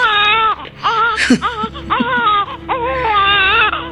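A baby wails in several long, strained cries broken by short gasping breaths, loud and close, with a low hum beneath, in a radio drama scene.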